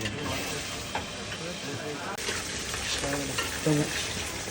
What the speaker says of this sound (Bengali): এখন মাংসটা কিন্তু কষা করে নেওয়া হচ্ছে